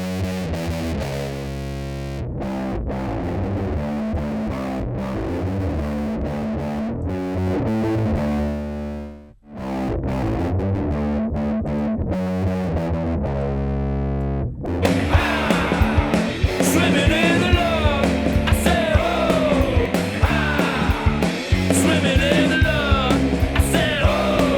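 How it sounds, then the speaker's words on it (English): Loud, fuzzy distorted electric guitar through a Big Muff Pi-style fuzz plugin, playing chords and riffs, briefly dropping out before returning with a thicker, more saturated tone. "their version of the Big Muff Pi distortion pedal, the fuzz distortion pedal, as a plugin"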